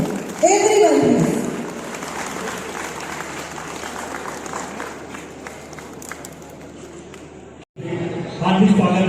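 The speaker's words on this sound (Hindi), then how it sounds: "जोरदार तालियां जरूर बजा सकें। Everyone please." An audience at an Industrial Business Association foundation day event claps in a broad, steady wash of applause, with a voice speaking over the start and again near the end.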